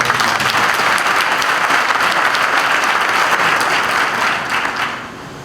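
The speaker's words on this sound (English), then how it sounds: "A round of applause for them." Loud, dense audience applause at a naval passing-out parade and commissioning ceremony for special duties cadets, sustained for several seconds before thinning and fading at the end.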